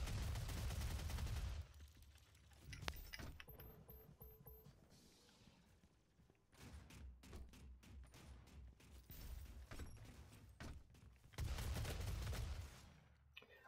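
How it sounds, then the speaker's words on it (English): Heavy machine gun in the video game DOOM firing in sustained loud bursts, with a long rattling volley at the start, quieter mechanical clatter and scattered shots in the middle, and another dense burst near the end. "I don't know if I like that heavy machine gun yet"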